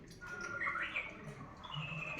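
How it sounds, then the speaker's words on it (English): Synthetic bird chirps and tweets from an electronic cuckoo clock play in a steady stream, sounding slightly tinny like a small speaker, with some faint background noise. "First it's the tweet of some birds."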